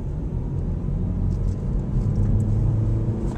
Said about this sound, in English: So we begin to put it in gear 1 and start accelerating.